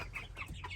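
Week-old naked-neck rooster chicks on a farm peep and chirp in quick, overlapping calls, close and fairly faint, over a low background hum.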